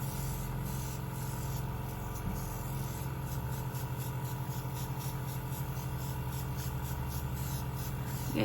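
Continuous hiss of an airbrush spraying close by, with a faint buzzing motor hum underneath and slight pulsing in the spray.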